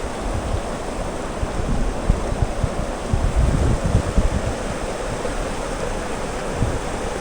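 A snowy mountain creek in the Colorado Rockies near Boulder flows with a steady close rushing and gurgling of water, its level swelling slightly midway, with some wind buffeting.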